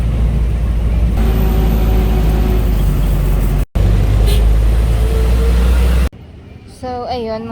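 A tricycle rides through traffic with a constant loud engine rumble and passing road noise. The ride cuts abruptly near the end to a quieter scene where a person speaks.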